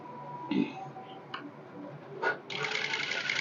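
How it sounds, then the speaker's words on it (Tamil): A sewing machine stitches an edge finish on a netted blouse's pattern sleeve, starting with a few faint clicks and taps before running steadily and fairly loud through the final second. "இப்போ இதில் நீங்கள் ஒரு எட்ஜ் ஸ்டிச் ஒன்று கொடுத்துடலாம்"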